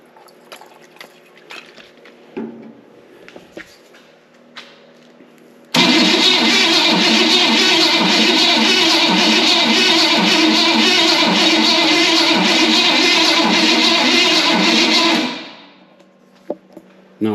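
A 1923 T Bucket roadster engine cranks for about ten seconds in one long loud grinding burst with a galloping rhythm, then stops, with faint clicks and handling noises before and after.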